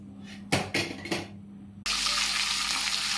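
Green chillies, curry leaves, cumin and mustard seeds hit hot oil for a raw banana curry, starting with a few sharp clinks and stirs, then bursting into a loud, steady hiss of frying that continues without talk.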